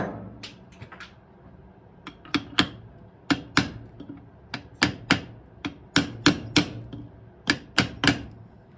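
A part is hammered onto a shaft through a deep-well socket: a series of sharp, ringing metallic blows, sparse at first and then coming faster and steadier, loud and close with no talk.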